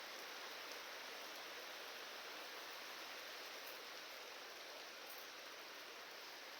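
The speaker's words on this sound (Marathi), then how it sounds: "आपल्या इथं पाऊस येतोय गावामध्ये." Steady, dense rain falls over a village, a constant even hiss with no gaps, heard alone without voices.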